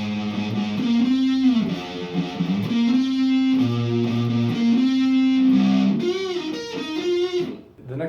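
Distorted electric guitar riff with a sustained, effects-laden tone and pitch bends toward the end, played alone in a guitar lesson setting.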